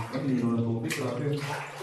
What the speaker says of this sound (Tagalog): dito yung source ng tubig